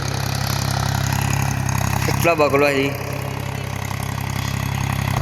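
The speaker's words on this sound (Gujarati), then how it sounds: "જોવા પ્રવીણભાઈ ટ્રેક્ટર લઈને આવે છે." A tractor engine drones steadily and close by through the whole stretch at an unchanging idle-like pitch, while someone speaks briefly over it partway through.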